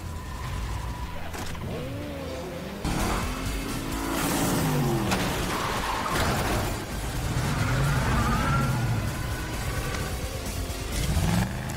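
A car revs hard and crashes in an action scene from John Wick 2, engine whining up and down with squealing tires, abrupt impacts and a sudden jump in loudness, close and busy over about twelve seconds.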